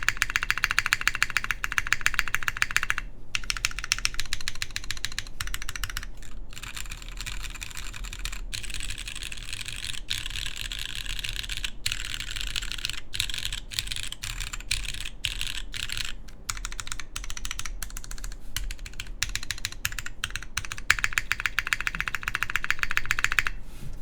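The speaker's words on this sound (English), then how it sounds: "Gives you a little bit more of that like pure keyboard sound and nothing else." Typing on a QK Neo60 Cu mechanical keyboard, a close, steady run of crisp keystroke clacks with brief pauses, heard alone without talk.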